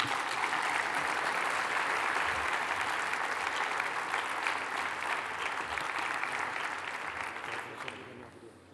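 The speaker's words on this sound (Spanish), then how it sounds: "Un fuerte aplauso para él, por favor." A conference audience at a forum opening in Zaragoza applauds a guest, sustained dense clapping that holds steady for several seconds and then gradually fades out near the end, with no speech over it.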